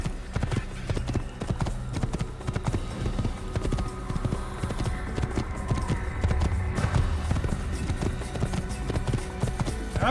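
A horse gallops in the video game Assassin's Creed with steady, rapid clip-clop hoofbeats throughout, set against a busy game soundscape, with faint talk now and then.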